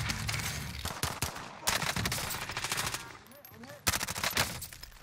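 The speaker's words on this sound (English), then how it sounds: "Taking direct fire." Rapid gunfire in the video game Warzone: bursts of automatic fire and sharp single shots at close range, coming in dense clusters with brief gaps between them. Faint voices are heard under the shooting.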